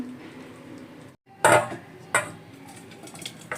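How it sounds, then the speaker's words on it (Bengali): Cooked bottle gourd with shrimp is tipped from the pan into a serving bowl: a short pause, then a sharp clatter of metal against dishware, followed by a second, softer clink and faint scraping. "ঢেলে নিলাম পাত্রের মধ্যে"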